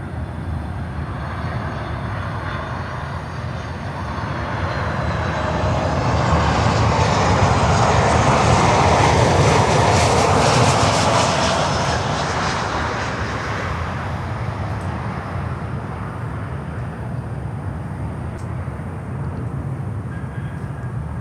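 An Aviateca airliner at Miami airport roars past, its jet engine noise swelling to a loud peak midway and then fading back to a steady rumble, with no voices.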